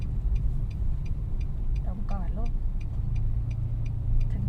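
A car idles steadily while a learner driver waits at the mouth of a side street to turn, with a low engine rumble throughout and a faint regular ticking, like an indicator, under a brief spoken instruction.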